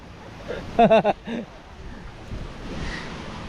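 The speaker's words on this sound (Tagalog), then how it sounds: "Taas kayong dagat no? Dakong dagat." Waves wash on a big open sea, a steady windy surf rumble building toward the end, heard after a few short shouted voices early on.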